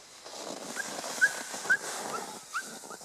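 Sled dogs whimper and yip in a few short high whines, fairly faint over a steady outdoor hiss, with no clear full barks.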